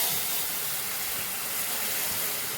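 Hot water poured into spice paste frying in oil makes a loud, steady hiss of sizzling and steam that fills the whole moment, with no voices.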